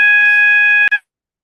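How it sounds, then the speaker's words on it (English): A malfunctioning alarm system sounds a loud, steady high-pitched electronic tone that holds for nearly a second, then breaks off with a short click and a brief final burst before silence. "It's the alarm system is messed up."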